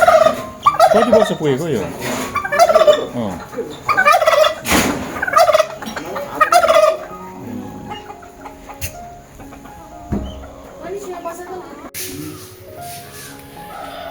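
Turkey gobbling among other fowl at an exotic pet and bird collection in Darjeeling, with repeated loud rattling gobbles in the first half and quieter bird calls and someone talking afterward.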